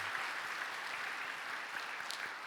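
A church congregation claps steadily for a couple of seconds, a dense wash of applause with no voices over it.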